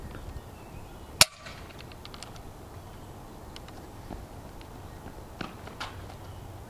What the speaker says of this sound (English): now we're going to take the modded Night Finder and show you how far that shoots